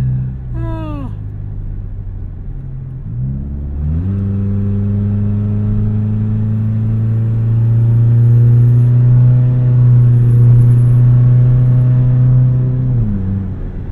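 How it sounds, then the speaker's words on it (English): Loud, rowdy exhaust of a Toyota Camry driving with its exhaust fallen off. A brief rev is followed by a sustained, deep, buzzing drone that holds steady and swells as the car pulls along, close and dominant. "Oh my goodness, this exhaust is so rowdy though,"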